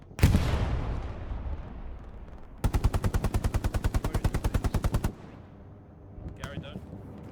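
Sustained machine-gun burst from an emplaced MG in the World War II shooter Hell Let Loose during a competitive match: a rapid, evenly spaced string of loud shots for about two and a half seconds amid distant battle noise and commentary.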